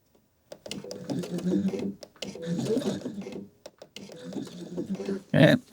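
A sewing machine running a 3-step zigzag stitch whirs in three sustained bursts separated by short pauses, then gives one brief, louder final run; it is close and clear.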